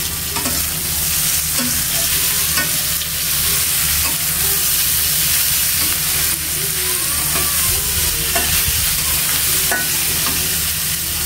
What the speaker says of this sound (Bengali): তো আমি এখন পেঁয়াজগুলা ভেজে নিতেছি।